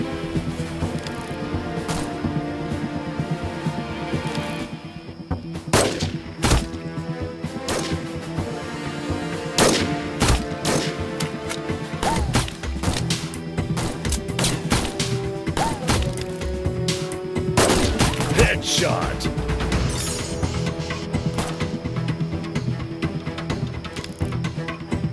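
Gunshots in the mobile shooter Sniper Arena: PvP Army Shooter: loud, sharp sniper cracks fire irregularly over a continuous game soundtrack, with metallic bolt-action clacks between shots and no voices.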